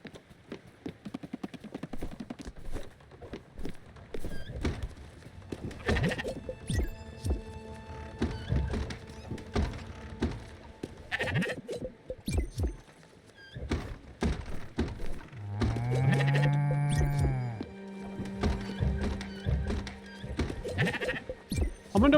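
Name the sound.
sheep bleating in Spiritfarer video game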